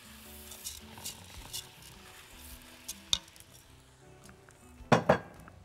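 Rice is stirred into fried meat, onions and spices in a pot for maqluba, giving soft scrapes over a low sizzle, with a few sharper metallic clinks toward the end.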